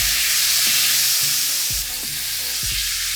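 Venison sizzles hard in a hot pan as it is turned and kept moving for a crust. A loud, steady hiss of frying runs under several dull knocks and clanks of meat and pan being shifted.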